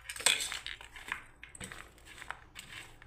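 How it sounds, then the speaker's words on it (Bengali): Chopped carrot, cucumber, apple and onion are mixed together in a bowl with a utensil, giving faint, irregular clinks and soft scraping taps against the bowl, close up and without talking. "এবার আমি সব মাখিয়ে দিচ্ছি বন্ধুরা দেখুন একসাথে"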